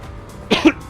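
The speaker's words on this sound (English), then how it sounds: "Just trying to clear my throat a little bit" A man clears his throat in a few short, close, rough bursts, pausing briefly between them.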